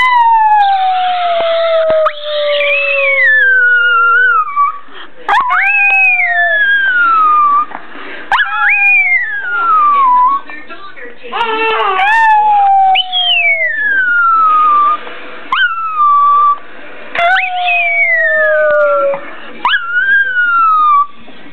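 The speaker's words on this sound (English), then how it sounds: "Is your doggy barking?" A dog howling in long rising and falling siren-like wails, repeated many times close and loud, with yips between the howls.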